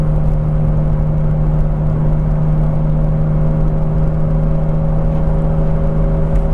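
Steady, loud interior drone of a BMW Z3 M Coupe turbo cruising along, a constant low engine rumble and road whir with no change in pace.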